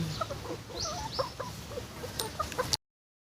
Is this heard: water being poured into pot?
no